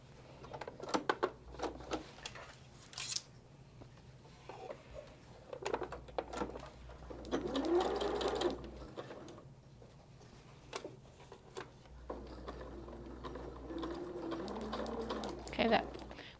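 A sewing machine stitches a Sisters' Choice quilt block in short runs, its low motor hum and quick needle ticking starting and stopping. Someone talks quietly between and over the stitching.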